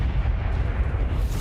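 A Bombarda spell explosion in Hogwarts Legacy, a heavy low rumbling blast that stays loud and dense throughout a short burst, with no voices over it.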